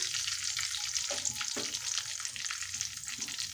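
Bay leaf, whole dried red chillies and cumin fry in oil left from frying potatoes for ghugni, giving a soft, steady sizzle with a few light stirring clicks throughout.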